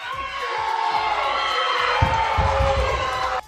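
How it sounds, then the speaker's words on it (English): A large crowd roars and cheers loudly and continuously as a professional strongman completes a 501 kg deadlift, with a heavy thud partway through as the noise swells. "That was the sound of a professional strongman successfully completing a 501 kilogram deadlift."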